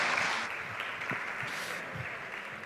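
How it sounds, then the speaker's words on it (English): Conference audience applauding at a summit stage, a dense wash of clapping that is loud at first and then settles slightly lower but continues steadily throughout. "Big applause,"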